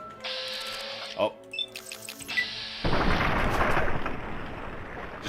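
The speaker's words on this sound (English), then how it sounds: "Just the explosion of the head." A head bursts apart in the video game Fallout: New Vegas, a sudden burst of crunchy, sustained noise after a few short clicks and game tones.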